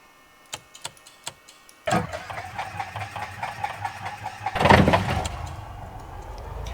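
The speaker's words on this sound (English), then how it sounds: "We have a good start on the engine." A simulated Cessna 172S Skyhawk engine starts in the X-Plane 10 flight simulator: a few sharp clicks, then the engine catches with a sudden rumble, building to a louder surge before settling into a steady run.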